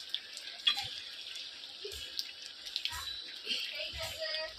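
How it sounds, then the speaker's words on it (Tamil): Jaggery syrup is poured into jackfruit payasam during cooking, giving faint, wet trickling and scattered drips at close range over a low kitchen background. "கொஞ்சம் தேவையான அளவு வெல்லைப்பாகு விட போகிறேன்."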